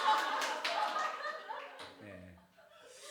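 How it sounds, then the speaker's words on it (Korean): A church congregation's applause during a Sunday service, an energetic burst of clapping at the start that fades over a couple of seconds while voices and light laughter continue. "이 박수를 엄청 열심히 치네."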